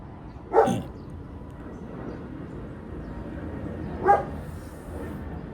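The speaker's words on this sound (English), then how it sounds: "the dog next door is going to bark the whole time because that's what that dog does" A neighbour's dog next door barks twice, a single bark near the start and another about three and a half seconds later, fairly distant over a steady low background hum.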